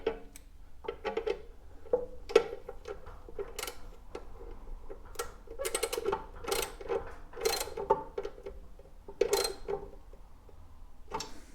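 Eye shields on a WEN 6-inch bench grinder, model BG4276, are tightened by hand, making a string of close, light ratcheting clicks and mechanical ticks in irregular bursts, with no talking.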